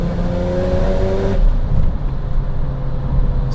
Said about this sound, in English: Big noise from the diff.